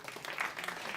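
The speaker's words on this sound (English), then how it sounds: "Let's all give Joseph a round of applause." Audience applauding at a gathering honoring the editor-in-chief, a brief dense wash of many hands clapping at steady, moderate loudness throughout.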